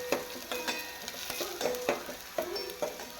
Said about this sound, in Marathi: अद्रक लसूणची पेस्ट लसूण लाल होईपर्यंत आपल्याला इथं परतायचं आहे